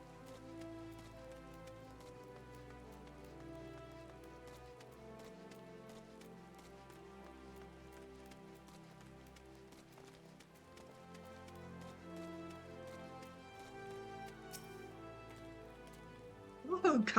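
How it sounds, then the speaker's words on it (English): Steady rain patters in a fantasy role-playing game world, a soft continuous hiss lying under a dense bed of game music throughout, with a brief louder burst near the end. "Oh, goody, and it's raining."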